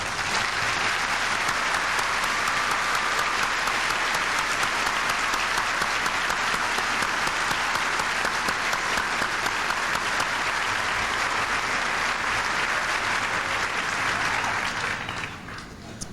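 A large crowd at a 1997 high school commencement applauds in a dense, sustained wash that holds steady for about fifteen seconds before fading.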